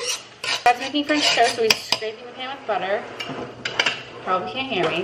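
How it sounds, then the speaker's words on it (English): Metal scrapes and clinks against a pan as butter is spread around it for French toast, loud and close with repeated sharp knocks. A person speaks briefly over the scraping. "Dad's making French toast, so he's scraping the pan with butter."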